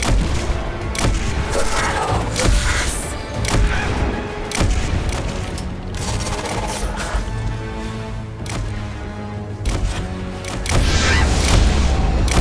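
Repeated heavy booms from grenades and gunfire during a raid boss fight against Kalli the Corrupted in a video game, loud and close, with explosions overlapping steadily throughout and a big blast near the end.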